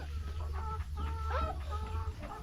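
Farmyard chickens cluck close by in short, overlapping bursts, with a low steady hum running underneath during egg collection.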